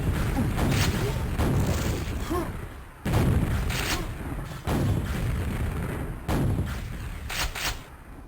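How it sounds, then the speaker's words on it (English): Rocket explosions and rocket jumps in Quake on the dm4 map give repeated heavy booms and blasts over a dense, loud game din, with several sharp onsets spaced a second or two apart. "he's doing lots of fake rocket jumps"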